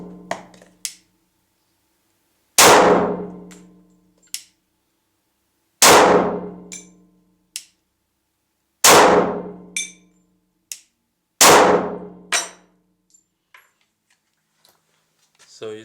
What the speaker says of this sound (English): So let's load the pistol and try the function.